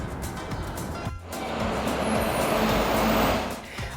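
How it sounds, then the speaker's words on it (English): City street traffic in a downtown area among skyscrapers: cars, buses and trucks roll past close by, with a rising engine rumble and a brief hiss like an air brake. It is a loud, continuous roadway din with no talking. "there's lots of traffic"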